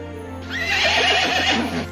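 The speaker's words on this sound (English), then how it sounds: "horse" A horse gives a single loud, close whinny that rises and wavers for about a second before trailing off, standing alone over a faint steady background hum.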